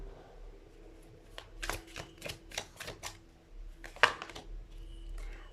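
Tarot cards being shuffled and handled, a run of quick riffling bursts close by with a sharper snap near the end, no voices over them.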